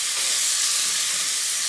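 Steak frying in a pan for bife acebolado, a steady broadband sizzle and hiss that stays even and fairly loud throughout, with no talking.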